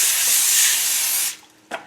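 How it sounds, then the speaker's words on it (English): Cooking spray misted onto tin foil lining a crockpot for stuffed meatloaf, one steady, close hiss lasting over a second that stops abruptly, followed by a brief faint rustle. "lightly spray our tin foil"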